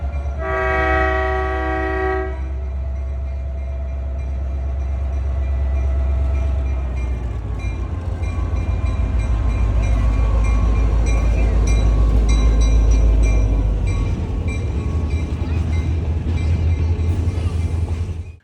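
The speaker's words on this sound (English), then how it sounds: "Our train for the day backs into the station with an old bay window caboose converted into a unique power car leading the way." A Great Smoky Mountains Railroad diesel excursion train backs into the station, led by an old bay-window caboose converted into a power car. A loud multi-tone horn blast opens, then a heavy low diesel rumble with faint wheel clatter builds and holds.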